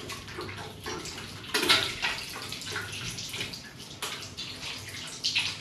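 Hands being rinsed under running tap water at a sink, a steady close splash that swells and shifts as the hands move through the stream, with no talking.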